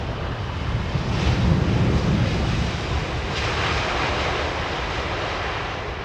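An older United trijet airliner with Pratt & Whitney engines lands on runway 27R, a loud, steady jet roar with a low rumble that swells early and then holds, heard from nearby.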